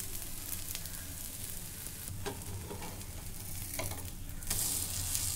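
Dosa batter fries in oil on a nonstick pan, giving a steady, close, hissing sizzle with a few soft crackles and no talking.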